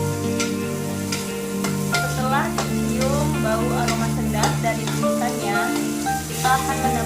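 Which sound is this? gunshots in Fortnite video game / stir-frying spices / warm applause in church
stir-frying spices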